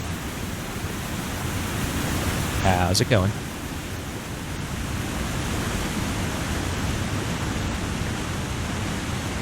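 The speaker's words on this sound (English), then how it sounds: "hey, Waterfall." A waterfall in the snowy survival game The Long Dark roars as a steady, dense rush of water throughout, with someone briefly speaking over it.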